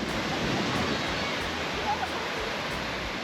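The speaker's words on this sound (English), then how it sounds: "appreciate the beauty of the beach and the tranquility of the sounds of the waves" Steady broadband wash of surf on a beach at Destin, Florida, a continuous rushing roar with no distinct breaks, like waves rolling onto a shore at close range.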